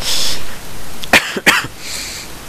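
Two sharp, close coughs from a sick person in quick succession, following a breathy exhale, over faint background hiss.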